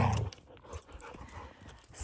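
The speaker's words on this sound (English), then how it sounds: "these dogs are crazy" Dogs make sharp, close sounds, strongest in a short loud burst at the start, then fainter scattered yelps and panting with a final burst at the end.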